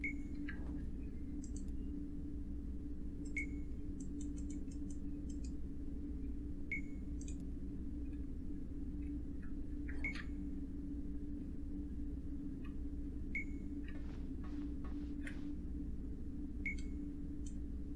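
A device in the video game Dreamfall Chapters gives short, faint electronic beeps at a steady interval of a few seconds over a constant low ambient rumble.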